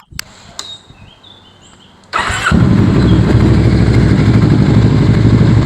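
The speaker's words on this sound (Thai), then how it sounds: "เดี๋ยวผมพามาฟังเสียงเครื่องแล้วก็เสียงข้อกันเลยดีกว่า" A 2014 Kawasaki ER-6N motorcycle engine cranks and catches after a couple of seconds, then settles into a steady, loud, close idle that runs to the end.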